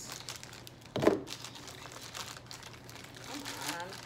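Merchandise packaging torn open by hand during an unboxing, a sharp rip followed by soft crinkling of plastic or paper, faint and close, with quiet background sounds.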